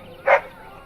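A single short dog bark or yip rings out once, bright and close, in a Dragon Age: Origins tavern scene, with faint ambient hum around it.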